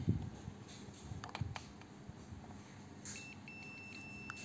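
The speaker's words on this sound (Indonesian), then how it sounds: "kita cek menggunakan buzzer pun akan berbunyi" A thin, steady electronic beep from a multimeter continuity buzzer testing a shorted capacitor in a set-top box sounds near the end, preceded by faint clicks and handling noises in a quiet room.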